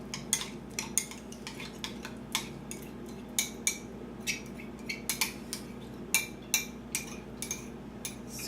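A spoon scrapes and taps inside a yogurt container while preparing banana overnight oats, a string of small, sharp, quiet clicks and scrapes in an irregular rhythm, close up with no talking.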